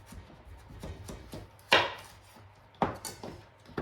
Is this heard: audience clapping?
no